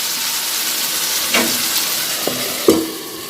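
Mutton and a couple of potato pieces sauté in a pan, a constant close sizzle with a few scraping stirs and clinks against the pan.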